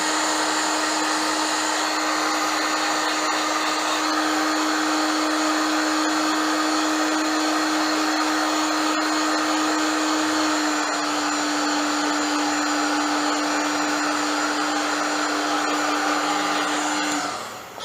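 Hot-air dryer blowing over a freshly printed T-shirt, a loud, close, continuous whooshing hum with a steady motor whine, running unbroken for the whole stretch before cutting off at the end.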